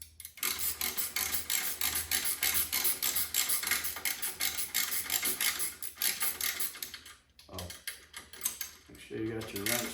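A half inch wrench turns bolts on a grill guard for a John Deere 1025R tractor, a close, continuous rapid ratcheting and scraping that runs almost throughout, with brief pauses near the end.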